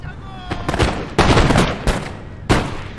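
Musket volleys crack out in the Napoleon Total War Austerlitz battle, several broad bursts of rolling gunfire layered over battlefield din, fairly loud and close with overlapping reports.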